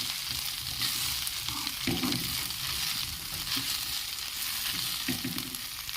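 Moringa leaves and dal fry in a pan as they are stirred, a steady sizzle with soft scraping bursts from the spoon, no talking.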